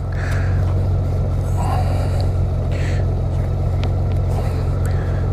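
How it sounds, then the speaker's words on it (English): Honda Goldwing GL1800 DCT motorcycle riding at night, a steady loud engine drone with heavy wind rush, constant throughout with no pauses. "doing a quick night ride on the old Goldwing"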